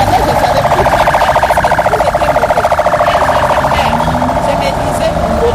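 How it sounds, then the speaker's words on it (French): Ambulance siren wailing in steady, rapidly pulsing cycles on a Kinshasa street, loud and close throughout, with traffic noise underneath. "À bord de cette ambulance"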